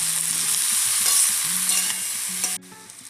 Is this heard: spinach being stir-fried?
yes